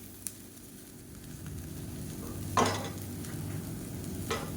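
Cooked puttu is stirred into sautéed onions in a pan: soft, close scraping strokes over a low, quiet sizzle, with a couple of sharper scrapes and no speech.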